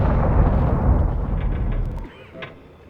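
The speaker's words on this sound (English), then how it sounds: "And there are the bombs." Depth charges going off near a submerged U-boat in Silent Hunter 3: a heavy, continuous low rumble of underwater blasts that fades abruptly after two seconds, leaving a faint metallic creak and a brief later pop.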